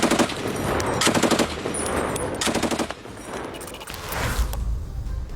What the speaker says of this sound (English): the M60 was introduced in 1957 and was perhaps the best Cold War-era general-purpose machine gun